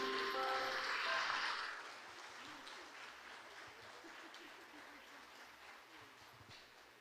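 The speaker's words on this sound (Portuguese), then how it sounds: "Vamos aplaudir Jesus, irmãos." A church congregation claps during a worship service, a brief burst of applause mixed with a sustained musical tone that fades after a couple of seconds into quieter, thinning clapping.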